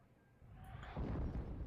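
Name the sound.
artillery bombardment in video game Steel Division 2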